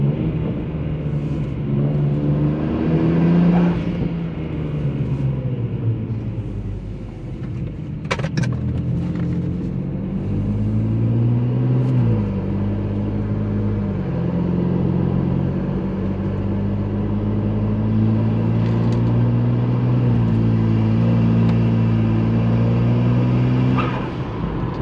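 A turbocharged BMW 135i with an N54 engine idles and revs repeatedly in a steady, throaty rumble with rising and falling pitch, close by and loud, with a brief whine at one point.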